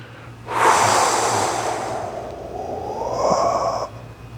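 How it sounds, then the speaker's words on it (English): A person breathes heavily while doing a standing side-bend stretch, feet wide; a long, close, airy exhale swells and fades, followed by a second breath with no talking. "You may hear me breathing."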